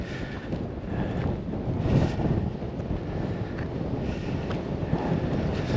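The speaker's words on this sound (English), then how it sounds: "Wow, it's windy." Wind gusts buffet the microphone near an iceberg on the Newfoundland coast in a steady, rough rumble that swells and eases, with no voices.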